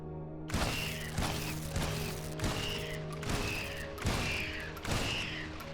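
Video game gunfire shooting mobs into a wall at an experience farm, a run of about eight sharp shots at roughly even intervals over a steady low mechanical hum, no talk.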